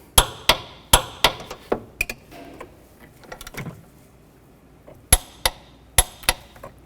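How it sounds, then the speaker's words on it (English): Engine mount bolts on a 2009-17 Chevy Traverse being tightened to 43 foot-pounds with a torque wrench, giving a series of sharp, close metallic clicks in uneven bursts with quiet handling noise between. "Now I'm going to torque these bolts to 43 foot-pounds."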